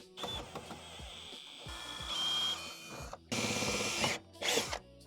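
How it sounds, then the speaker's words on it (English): A power drill with a 3/8-inch bit whines in several bursts of a few seconds each, widening a pilot hole on a BMW X5, close and loud, with brief pauses and clicks between runs. "I have a 3/8 inch drill bit attached to my drill right now."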